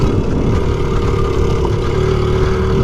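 A 1993 Honda Z50R small motorcycle engine runs close by with a steady, buzzing drone that climbs slightly in pitch, loud and continuous with no talking.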